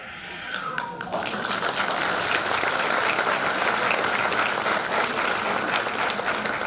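Applause from a full hall audience at the annual concert of a folk dance ensemble, a few early claps swelling within a second into loud, steady, dense clapping that carries on to the end.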